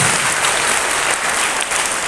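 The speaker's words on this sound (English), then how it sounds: "Let's give all these organizers a big round of applause." Audience at a school investiture ceremony applauding the organizers, a dense, steady wash of many hands clapping at close range with no talk over it.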